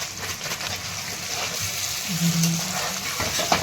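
Coconut flour sizzles and crackles as it is stirred and roasted in a hot pan, a steady frying hiss with faint scraping, heard close and without talk.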